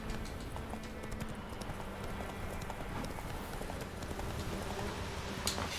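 A horse gallops in The Witcher 3, its rapid rhythmic hoofbeats running steadily beneath a dense wash of game ambience and music at moderate loudness.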